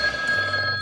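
A telephone rings with a brief electronic tone that holds steady for under a second, clear and close, with no voices.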